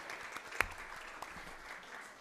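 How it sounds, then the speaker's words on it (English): A small round of clapping for a colleague at a school district governing board meeting, faint and sparse with one sharper clap early on, in a quiet room. "we need to give her a round of applause"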